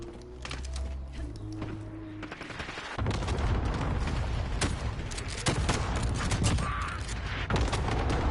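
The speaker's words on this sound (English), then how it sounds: "Allied cluster strike inbound." A cluster strike pounds the ground in Call of Duty: Modern Warfare as a dense string of booming explosions and rattling gunfire rolls on almost without a break.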